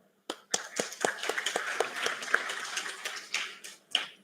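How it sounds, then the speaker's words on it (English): A small group claps in a loose, uneven burst for about four seconds at a university orientation, sharp individual hand claps standing out, close by, fading at the end. "For that, again, one round of applause."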